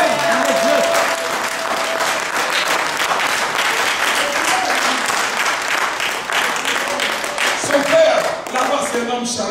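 A church congregation bursts into sustained applause and cheering, a dense, loud wash of clapping that holds steady throughout, with voices calling out within it.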